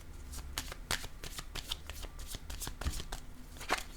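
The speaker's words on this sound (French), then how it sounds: "Là, je vais piger une autre carte." Close, soft riffling of tarot cards being shuffled, in a quick series of flicks, faint and alone with no talking.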